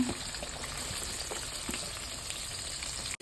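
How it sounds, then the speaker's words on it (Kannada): Sliced onions frying in hot oil with bay leaf, cinnamon, cloves and cardamom, a steady close sizzle running evenly throughout with no voices. "ಆಮೇಲೆ ಹೆಚ್ಚಿಟ್ಕೊಂಡಿದ್ವಲ್ಲ ಈರುಳ್ಳಿ ಹಾಕ್ಕೊಳ್ಳೋಣ"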